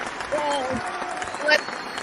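A short burst of applause sound effect played on a live stream, brief and moderately loud, with voices talking over it.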